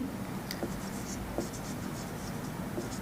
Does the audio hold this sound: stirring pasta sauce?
no